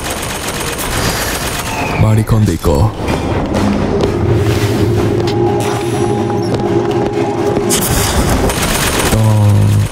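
Turret gunfire in BioShock Infinite: Burial at Sea sounds as loud sustained bursts of rapid shots over booming explosions and dense game noise, with a person speaking over it.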